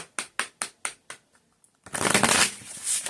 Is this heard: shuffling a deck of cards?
yes